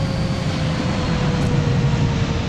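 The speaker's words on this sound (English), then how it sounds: "with a FedEx plane passing overhead" A FedEx cargo plane passes overhead at Memphis, Tennessee, in a flight simulator with an A300, giving a loud, steady broadband engine roar with a faint high whine that holds for the whole moment, no talk.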